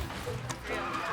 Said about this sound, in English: This horse is a little bit spooked out.